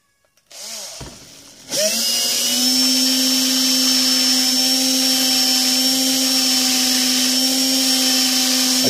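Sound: sanding wheel cleaning up a leather sheath edge

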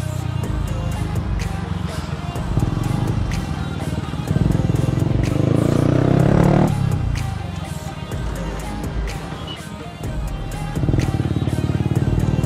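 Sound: motorcycle with modified exhaust riding at full speed

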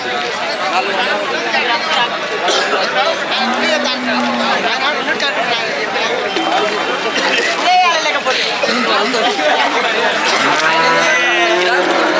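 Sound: cows mooing

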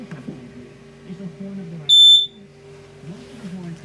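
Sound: LP gas detector alarm beeping in travel trailer

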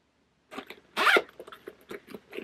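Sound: zipper on a purse

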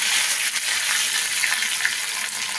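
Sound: black mustard seeds and curry leaves sizzling in hot oil

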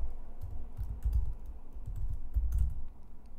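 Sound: typing on a computer keyboard and pressing enter

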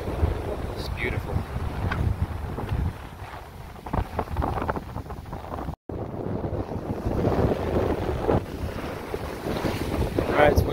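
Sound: wind on the beach

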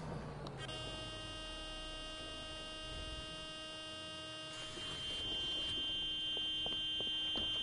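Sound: bus horn in a bus simulator video game

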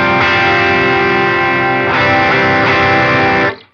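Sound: electric guitar with Minotaur Klon-copy overdrive stacked, Line 6 Helix

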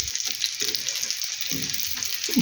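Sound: mushrooms frying in egg batter

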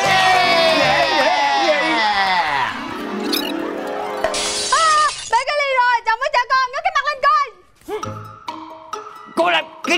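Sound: glass cup shattering

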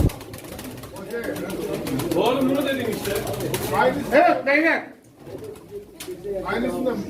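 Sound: pigeons cooing at a pigeon auction in Çorum

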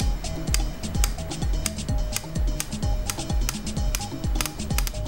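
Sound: clicks of PRS indexing system on FLM pan head

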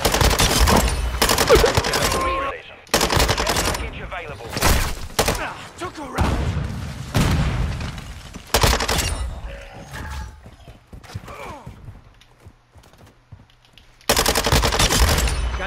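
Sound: gunfire from a gun in the video game Call of Duty Modern Warfare II

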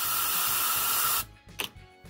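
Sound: compressed air nozzle blowing

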